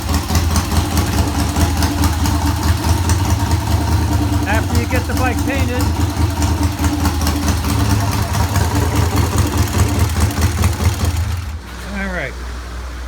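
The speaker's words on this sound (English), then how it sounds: "the engine does run" A vintage British motorcycle engine idles close by with a loud, lumpy, steady low throb and rattling mechanical chatter, someone talking over it, until the engine cuts off near the end, leaving quieter room sound.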